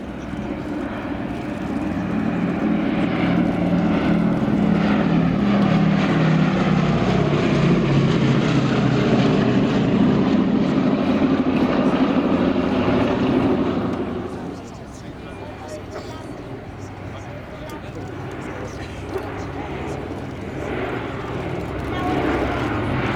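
A B-17 bomber's propeller engines drone loudly overhead at the Shoreham Airshow, a heavy sustained roar that drops off partway through and continues more distantly.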